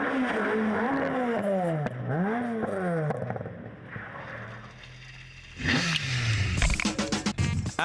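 A Ford Escort Mark II rally car on a West Cork Rally stage, engine revving up and down through rising and falling gear pulls, then a louder, closer burst of acceleration with clattering near the end.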